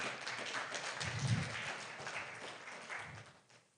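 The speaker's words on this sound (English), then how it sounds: "Let's give a hearty clap to the professor." Audience applauds a professor at a National Reading Day event in Kenya, fairly faint and distant clapping that swells briefly, then thins and fades out toward the end.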